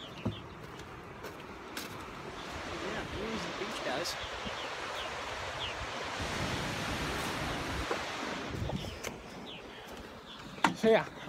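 Ocean waves wash in at a North Carolina beach, a broad steady roar of surf that swells through the middle, faint and somewhat distant, with a few soft knocks near the end.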